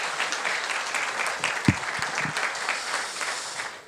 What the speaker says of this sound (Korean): 김석조 의장님께 박수 한번 부탁드립니다